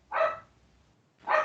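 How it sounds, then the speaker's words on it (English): A dog barks twice in the background, each bark a short, clear burst about a second apart with quiet between them, and no talk over it. "Yeah, sorry about my dog in the background."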